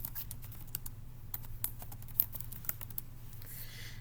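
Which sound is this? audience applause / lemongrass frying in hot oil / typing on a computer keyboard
typing on a computer keyboard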